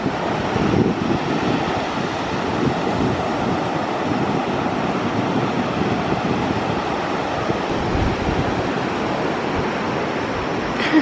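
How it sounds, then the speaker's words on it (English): Ocean surf at a beach in Khao Lak, Thailand, a loud, steady wash of breaking waves mixed with wind noise on the microphone, with no voices. "the waves are so nice today."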